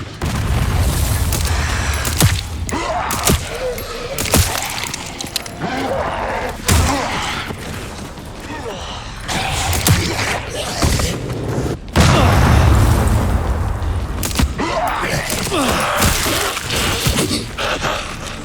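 Mortar fire in the video game Resident Evil Requiem, repeated deep booming explosions and crashing impacts in an irregular barrage, loud and close, with someone talking in French between blasts.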